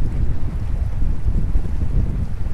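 Steady low wind buffets and rumbles across the microphone, a continuous gusty roar with no other clear sounds.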